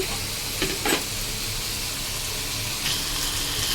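Mutton pieces fry and sizzle in a pan, a close, steady hiss broken by a few louder bursts and stirring scrapes.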